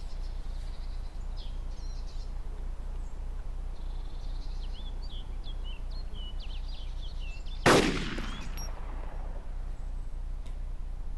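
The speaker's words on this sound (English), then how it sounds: "I started firing a couple of sort of semi-random shots to see where they landed and zero my gun" A single sharp rifle shot in DayZ cracks loudly over a steady outdoor ambient hiss with faint chirping, fading into a brief echoing tail.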